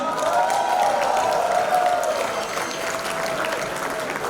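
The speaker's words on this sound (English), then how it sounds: "Bigger round of applause." Loud, sustained applause from a crowd at a youth event, with a cheering voice rising over the clapping early on before it settles into steady clapping.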